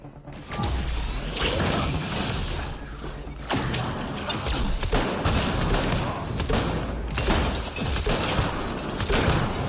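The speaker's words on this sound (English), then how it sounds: "Shooting as fast as I can" Rapid, sustained gunfire in the shooter Mass Effect: Andromeda, with loud, dense bursts of shots and mechanical clatter that keep going with only brief breaks.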